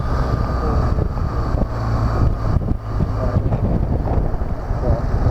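A BMW R1200GS motorcycle accelerates smoothly on a ride near Walnut Creek, California, its engine a steady low drone heavily buffeted by wind rushing over the microphone throughout.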